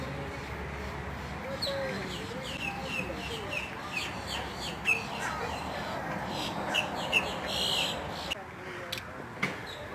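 Several birds chirp and tweet in short, scattered calls over a busy outdoor background with some distant voices at a primate sanctuary.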